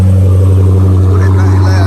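A tuned Dodge Scat Pack's engine running loud and steady with a deep, constant droning rumble close by.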